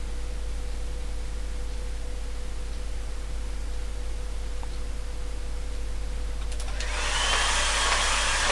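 A hairdryer blows steadily over a wet watercolour painting, a constant broad airy hiss with a low hum that grows brighter and louder in the last couple of seconds, no voices.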